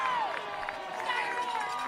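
Home crowd at a Cape Cod League playoff baseball game in Bourne, cheering steadily in the stands with whoops and shouts under a continuous roar.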